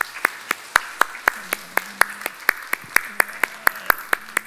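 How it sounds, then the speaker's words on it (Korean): A church congregation at a Sunday service claps in a slow, even unison rhythm, about three sharp beats per second, ringing in a reverberant hall. "박수로 내겠습니다"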